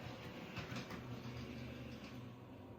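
Model train rolling along layout track onto the main line, a steady close rumble of wheels with faint clicking throughout, no talk over it.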